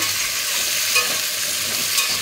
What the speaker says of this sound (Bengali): সবজিগুলোকে সব ভাজা ভাজা করে নেব